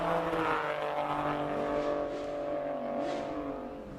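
A Toyota GR Yaris with a three-cylinder turbo engine climbs a Cape Town hill-climb course, its loud engine note holding strong and shifting in pitch before easing slightly toward the end.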